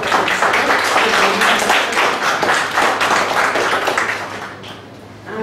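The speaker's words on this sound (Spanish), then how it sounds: "Les pido un fuerte aplauso para la maestra." Audience applause for a teacher at a lecture on human trafficking, a dense steady wash of many hands clapping that fades near the end.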